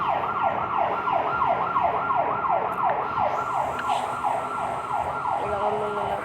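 A police siren wails outside in a steady, rapid up-and-down pattern, loud and continuous throughout with no talking.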